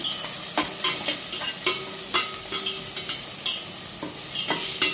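Spice powder and curry leaves sauté in a pan, with a continuous close sizzle broken by repeated rhythmic scrapes and taps of a stirring spoon, and no talking.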